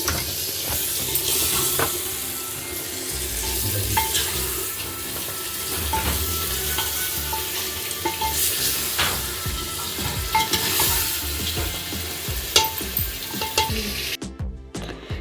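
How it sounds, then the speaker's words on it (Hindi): Biryani with chicken leg pieces is fried and stirred with spices in a handi pot, giving a steady sizzle under repeated scraping strokes of a spoon. Brief watery splashes occur, and the sound cuts off near the end. "अब इसे हमें थोड़ा सा भूनना पड़ेगा यार मसालों के साथ में।"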